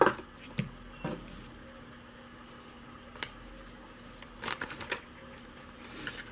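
Tarot cards shuffled by hand in a few soft quick riffles and pats, faint and close, with quiet background between bursts and no talking.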